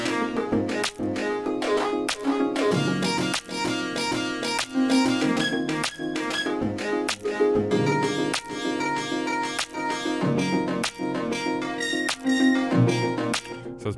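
Electronic music loop section from an Ableton tune in progress: dense layered synths and chopped loop fragments over steady punchy beats with sharp transients, continuous and loud throughout, with no talking.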